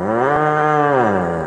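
An old ox lets out a single long, deep moo, loud and close, with a steady droning tone that bends slightly in pitch.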